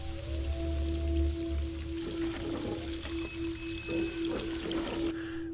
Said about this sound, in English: There seems to be a source of water in that tunnel